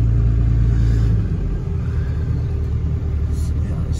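A second-generation Ram Cummins diesel truck towing a trailer pulls out of a gas station, its deep, steady engine rumble loud and close, with a heavier low drone at first that eases slightly as it gets moving.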